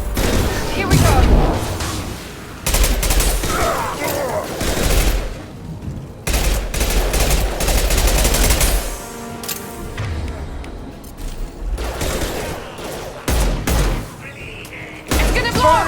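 Weapon fire in Mass Effect 2 Legendary Edition on Xbox One: repeated loud bursts of automatic gunfire and booming shots separated by short pauses, with voices speaking between and over the volleys.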